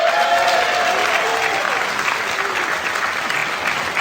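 An audience at an awards evening for St Albans retailers applauds loudly, sustained clapping from a crowd close by that fades slightly toward the end.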